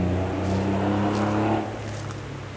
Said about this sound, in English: You can hear a lot of traffic.